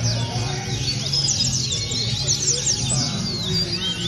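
Coleiro, the double-collared seedeater, singing in a cage at a songbird tournament, with rapid high chirps and trills repeating throughout over a busy room background, with voices in the mix.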